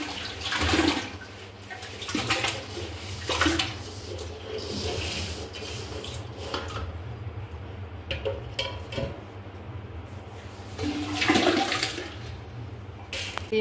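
Water is poured over about three kilos of washed finger millet in a container to soak, giving splashing, gurgling water noise that swells and ebbs in several surges.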